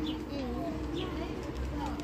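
Pigeons coo softly at a zoo, low repeated calls over a busy background of crowd noise, with people and children talking.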